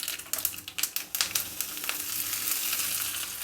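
Mustard seeds and curry leaves dropped into about four teaspoons of hot oil, popping in quick sharp crackles that settle into a steady close hiss of sizzling.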